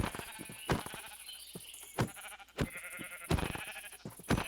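Several sheep bleat in short, repeated cries in Minecraft as they are killed by hand, amid thuds and clicks of game sound effects.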